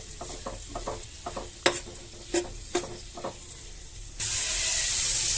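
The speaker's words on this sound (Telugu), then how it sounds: "నెక్స్ట్ టమాటో యాడ్ చేసుకొని మొత్తం మిక్స్ చేసుకోవాలి." Tomatoes are mixed into a hot cooking pan, giving a string of close scraping and clattering stir strokes, then a steady hiss of sizzling takes over near the end, with no voices.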